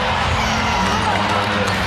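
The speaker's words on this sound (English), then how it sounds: "Sellout crowd. Almost all of them Laker fans." A sellout crowd of Lakers fans in a basketball arena, heard as a steady, dense roar with no pauses, with commentary voices running through it.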